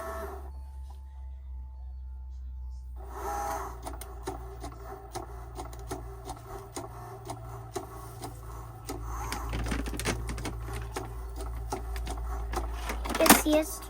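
A Cricut cutting machine loading a mat and then drawing lines, giving a soft mechanical whir with faint clicks and servo-like movements over a steady background hum, quiet, with a person talking over it and occasional handling noises.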